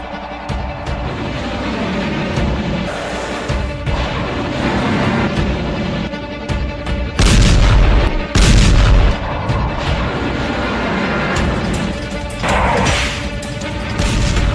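Explosions from a US airstrike on Houthi targets in Yemen boom loudly in a rapid series, with heavy blasts and crashing bursts dominating throughout, no talking.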